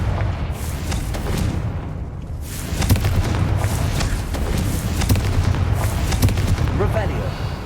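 Confringo fire-spell blasts in the game Hogwarts Legacy, heard as a continuous dense roar of booming, crackling bursts that swells near the three-second mark and stays loud throughout, with a voice talking underneath.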